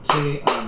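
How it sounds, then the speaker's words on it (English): Three sharp hand claps tap out a short rhythm in quick succession, close and clear, while a voice counts the beat along with them. "if I was to clap this out first, it sounds like this"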